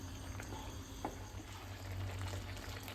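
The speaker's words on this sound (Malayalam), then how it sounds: "വെള്ളം തിളച്ചിട്ടുണ്ട്" Water bubbles at a steady boil in a pot, a soft continuous rolling hiss with occasional small pops, heard close up.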